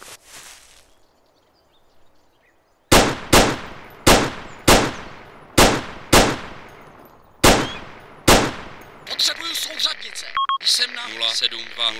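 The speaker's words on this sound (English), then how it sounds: "they're firing back" Volleys of enemy gunfire in Arma II, a series of sharp, loud single shots and short bursts at an irregular rhythm, with quieter game sounds and a brief beep toward the end.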